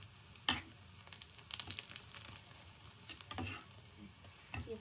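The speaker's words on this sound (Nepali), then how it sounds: "ब्राउन हुनेसम्म त्यसलाई फ्राई गर्नुहोस्" Bread frying in a pan until brown for bread custard pudding, with a quiet sizzle broken by irregular scraping and stirring strokes, close but faint, with no talking.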